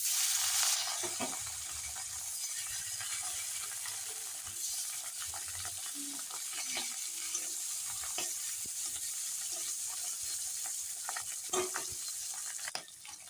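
Fish frying in oil in a kitchen, a soft steady sizzle with occasional pops and light utensil clinks, faint and continuous, with no talk.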